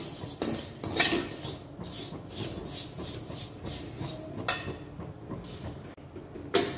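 Vermicelli roasted in ghee in a pan, stirred with a metal spoon: a series of scraping, clinking strokes against the pan, close and fairly loud, with a soft crackle beneath and no talking.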